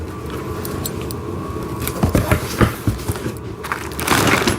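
Plastic packaging from a wooden train set crinkles and crunches as it is unwrapped, with close, busy rustling and sharper crackles rising toward the end over a steady background rumble.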